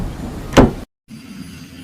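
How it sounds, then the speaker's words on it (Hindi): A house door closes with a single short, sharp swoosh and thud. Brief silence follows, then a low steady room hum. "मीनू मौसी घर का दरवाजा बंद कर देती है"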